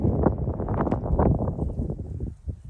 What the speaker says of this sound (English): So it's windy here at the fortress today.